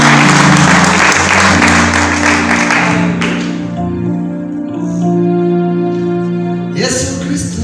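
A church congregation claps together in worship, with dense, loud applause at first, thinning after about three seconds and then swelling again near the end while sustained instrumental tones carry on underneath.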